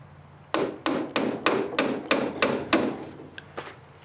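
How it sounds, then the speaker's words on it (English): Hammer strikes driving a nail into freshly glued wooden canoe parts, about eight sharp, evenly spaced blows ringing close by in a steady rhythm with no talk. "I put some glue there, and I'm going to nail it down."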